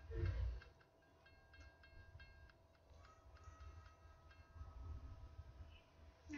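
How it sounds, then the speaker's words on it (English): A Long Island Railroad train passes at a distance, a faint low rumble with light rhythmic clicks and a thin tonal whine, with a brief voice at the start. "The Long Island Railroad train."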